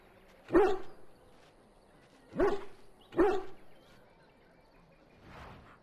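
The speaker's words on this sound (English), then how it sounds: "Who's the cute and adorable puppy?" A dog barks three times in Dragon Age: Origins, during the City Elf origin: one sharp bark, a pause, then two close together, followed by a faint trailing sound.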